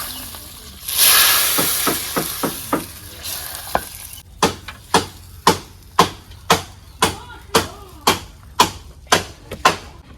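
Garlic and onion tempering in hot oil for lentil dal in a village kitchen: a steady sizzle and hiss, then a long run of regular sharp scraping knocks as a utensil stirs against the pot.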